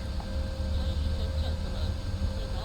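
An Embraer E-175 engine in a flight simulator drones steadily low throughout, with a faint rising whine as the engine spools up and its tone shifts, under broadband rushing noise.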